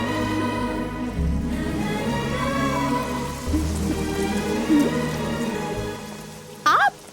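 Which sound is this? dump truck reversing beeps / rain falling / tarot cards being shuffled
rain falling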